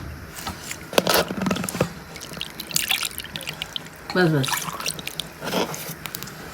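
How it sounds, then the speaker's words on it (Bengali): Water is poured into a tangy fuchka tamarind-water mix with salt and spices, splashing and trickling in short bursts between stretches of talk. "আর একটু পানি লাগবে তাই পানি দিয়ে দিলাম"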